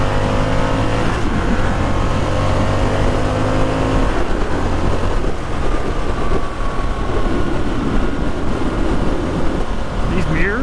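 A 2022 Harley-Davidson Sportster S with its 1250cc engine, ridden on the road: a loud, continuous engine drone mixed with rushing wind, its pitch shifting as the throttle changes.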